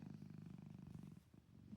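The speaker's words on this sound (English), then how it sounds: "Can you hear him purring?" Sheldon, a 12-year-old cat, purrs softly and steadily up close, a low rhythmic rumble with quick pulsing breaths and no talking.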